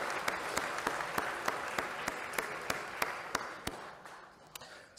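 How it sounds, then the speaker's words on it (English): Sparse, evenly spaced claps ring out in a lecture hall during a children's Christmas poetry lecture, a rhythmic single-clapper pattern fading near the end. "another round of applause for you"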